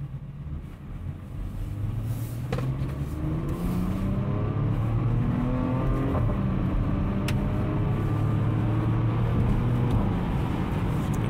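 Engine of a 2015 Porsche Macan S heard from inside the car during a test drive, a steady rumbling drone with falling and rising tones as it shifts, continuous and fairly loud with no talk.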